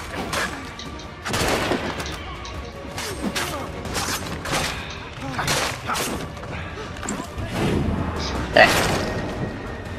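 Gunfire from the player's gun in Assassin's Creed III, several loud shots and thuds scattered among busy game sounds, with a voice talking over part of it.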